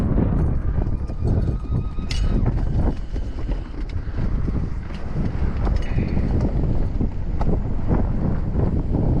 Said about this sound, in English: I can deal with the wind.